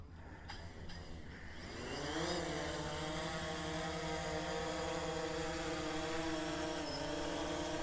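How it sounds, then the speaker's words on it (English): A DJI Phantom 3 Standard drone takes off. Its rotors spin up into a steady, close, high whine with layered propeller hum that holds level after lift-off, preceded by a few faint clicks. "we're going to go to the takeoff position. Just press that, it says takeoff."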